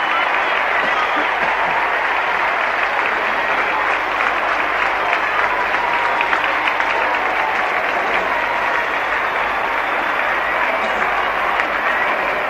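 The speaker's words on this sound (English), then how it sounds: "the Carlton players are going to cheer their own coach, Ron Barassi." A large crowd at the 1968 VFL Grand Final between Carlton and Essendon applauds and cheers steadily as Carlton players salute their coach, a dense, continuous roar with a commentator talking over it.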